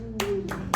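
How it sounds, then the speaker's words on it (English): A handful of audience members give mild, scattered applause at a comedy show, a few sparse claps over a low room hum. "Mild applause"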